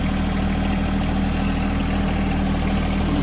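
A John Deere 1025R compact tractor's engine runs at a steady idle, with a constant low mechanical drone and no voices.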